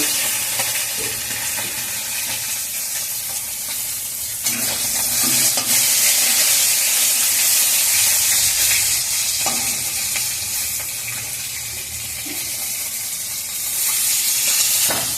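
Koi (climbing perch) fish frying in oil in a pan on a home gas stove, a continuous loud sizzle and hiss with occasional stirring scrapes throughout.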